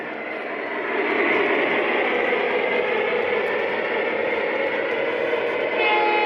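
A train on the Glacier Line in Marias Pass rumbles past close by, a broad, steady roar of wheels and cars that swells after the first second and holds loud throughout.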